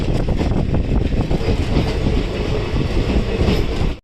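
A Gwalior to Datia Intercity Express running on the rails, heard from on board as a loud, continuous rumble with rattling wheel noise throughout that cuts off abruptly at the end.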